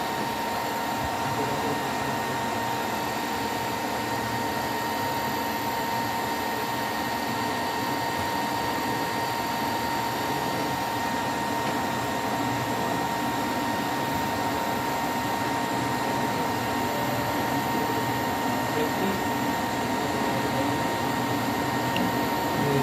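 An electric motor driven by a CHNT NVF5 variable speed drive whirs steadily, a constant whine with fan-like hiss that grows slightly louder toward the end as it speeds up.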